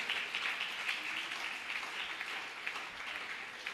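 Audience clapping at a Christian ministry gathering, a dense, even patter of many hands sustained throughout, moderately loud with no speech over it.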